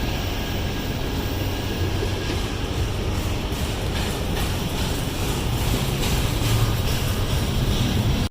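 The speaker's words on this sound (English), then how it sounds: "this is the first train I've seen on the Appalachian Trail. You could hear it from like a mile away." A loud, continuous rumble of a train rolling past near the Appalachian Trail, steady and broadband throughout, with no voices.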